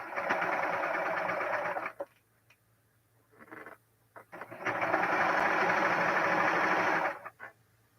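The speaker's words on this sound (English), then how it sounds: "this is true small space sewing of a quilt top" A serger sewing machine stitches a jelly roll quilt top in a small space, running in fast steady whirring bursts of a couple of seconds each, separated by pauses and brief short runs, close and clear.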